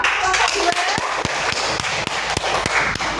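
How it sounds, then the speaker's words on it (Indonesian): A group of people in a classroom coding session clap their hands in a brisk, fairly even run of sharp claps, loud and close, mixed with voices chattering throughout. "Tepuk tangan dong."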